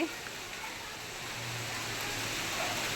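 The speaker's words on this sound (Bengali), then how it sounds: "এই দেখো কি সুন্দর বৃষ্টি শুরু হয়ে গেছে" Rain falling outdoors as the weather turns cool, a steady broadband hiss of drops that swells gradually over a few seconds, heard alone without talk.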